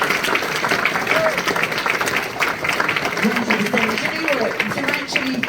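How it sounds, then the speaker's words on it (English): An audience at a BBC Make A Difference Awards ceremony in Derby breaks into a loud round of applause, dense steady clapping with some cheering voices mixed in. "give yourselves a massive round of applause"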